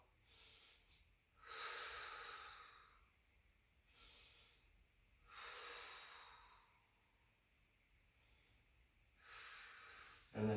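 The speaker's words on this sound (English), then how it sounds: "You breathe in, rotate on the exhale." Slow yoga breathing during a gentle twist, three long airy breaths rising and fading with quiet gaps between, close and soft with no talking.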